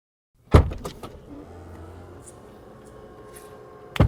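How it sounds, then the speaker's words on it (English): Power-folding third-row seats in a 2022 Ford Expedition Max start with a couple of sharp clicks, then a low electric motor whirs steadily for several seconds before a final thud as the seats settle. "You also have buttons back here that can fold these third row down pretty easily."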